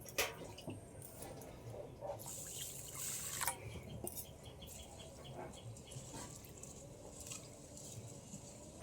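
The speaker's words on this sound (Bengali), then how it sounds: "এই ছাকনি দিয়ে জলটা আগে একটু ঝরিয়ে" Water drains from washed Gobindobhog rice through a kitchen strainer, a soft continuous trickle with scattered drips and a few brighter splashes, fairly faint and steady throughout.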